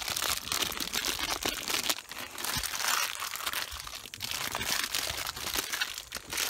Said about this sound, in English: let's get one of these fancy wire brushes out of here